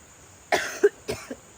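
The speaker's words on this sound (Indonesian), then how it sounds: "agak batuk-batuk gitu" Two separate coughs, close and fairly loud, each a sharp burst followed by a smaller rasp, with quiet between them.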